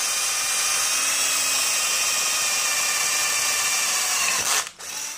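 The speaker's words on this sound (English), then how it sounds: "so that's real time drilling." Power drill running continuously at high speed with a freshly sharpened bit cutting through material, a steady loud whine that cuts out abruptly near the end before briefly resuming.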